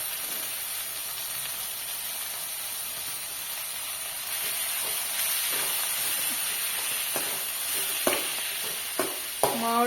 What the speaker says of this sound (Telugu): ఆనియన్స్ అయితే ఫ్రై అవుతున్నాయి చింత చింతచీగురు యాడ్ చేస్తున్నాము